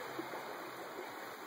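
Steady broadband rush of a river flowing along an Oregon trapline, a continuous close wash of moving water with no voices and no clear breaks.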